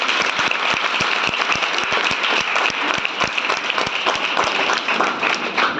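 Schoolchildren give sustained, dense applause for two sponsors, a retired teacher among them, with many hands clapping in a fast, even patter. The applause is loud and close and holds steady throughout, with no voices over it.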